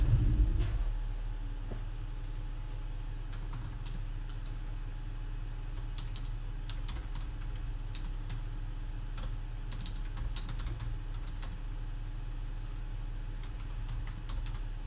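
Light, irregular keyboard typing clicks over a steady low engine-like hum, continuing through the whole stretch with no voices.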